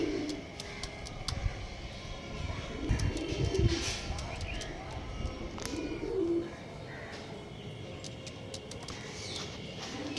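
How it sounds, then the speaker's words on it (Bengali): Male pigeons cooing close by in a loft, soft repeated throaty coos with chirps and wing flutters, someone talking over them in places. "এটা হচ্ছে মেল পায়রা"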